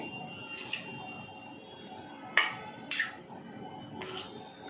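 Prawns stirred with turmeric and ginger-garlic paste in a pan, a few soft scraping clinks of a spoon against metal spread across a quiet stretch, faint and close.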